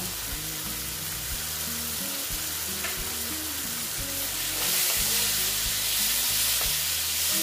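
Boiled chickpeas fry and get stirred in a pan while mochar ghonto (banana-flower curry) cooks, with a steady loud sizzle and repeated scraping stirs. No one speaks.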